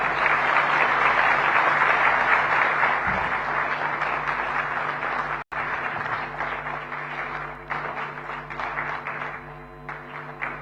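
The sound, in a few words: audience applause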